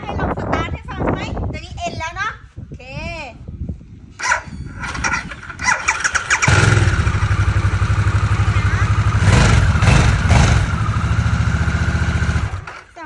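A motorcycle with its stock exhaust starts and settles into a steady, fairly loud idle after a few seconds of talking and other noises; people speak early on.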